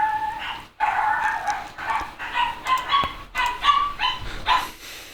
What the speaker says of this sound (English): the dogs have seen nothing outside and are very upset that nothing's outside